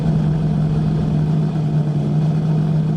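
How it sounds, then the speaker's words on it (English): A C-class blown fuel modified roadster with a 300-cubic-inch engine runs at Bonneville Salt Flats, its loud steady mechanical drone holding one deep tone without a break, close and unbroken. "he's driving a C blown fuel modified roadster"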